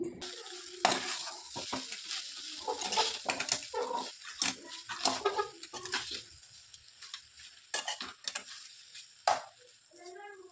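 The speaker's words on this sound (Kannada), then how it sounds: "ಈಗ ಆಯುಷ್ಗೋಸ್ಕರ ಫ್ರೈಡ್ ರೈಸನ್ನು ಮಾಡ್ತಿದ್ದೀನಿ" Fried rice with onion, carrot and cabbage is stirred in a pan at close range, with a soft sizzle under irregular scraping and knocking of the spatula, sometimes louder, and no talking.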